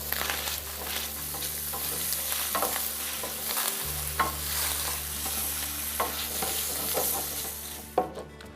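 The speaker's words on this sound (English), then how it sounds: "Another technique when using a rack is to saute the mirepoix in the drippings." Mirepoix sautés in lamb roast drippings in a pan, a steady close sizzle and fry broken by occasional stirring scrapes and clinks, with no talking.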